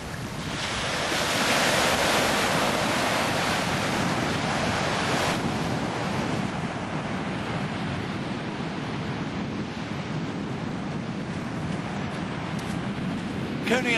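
Waves and wind roll in at Coney Island Beach in Brooklyn on a cold morning, a broad continuous roar of surf with gusty wind buffeting the microphone, steady and fairly loud for the whole stretch.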